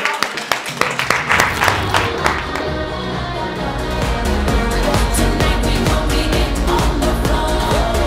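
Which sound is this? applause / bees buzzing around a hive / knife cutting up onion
applause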